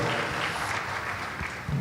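An audience at a youth economics seminar in Indonesia claps, a dense sustained round of applause filling the room without pause.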